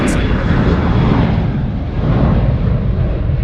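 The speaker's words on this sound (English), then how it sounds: "the noisy Qantas 737 departing" A Qantas Boeing 737 departing Sydney Airport roars overhead with loud, broadband jet noise, a heavy rumbling thrust that stays intense and steady throughout.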